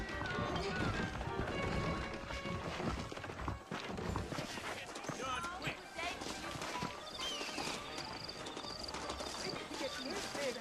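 Horse hooves clip-clopping in Red Dead Redemption, mixed into a busy town soundscape with clattering and background activity, moderately faint under music-like tones and voices talking.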